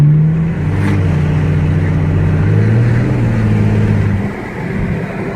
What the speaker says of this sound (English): That's moderate throttle. It's definitely louder than it used to be.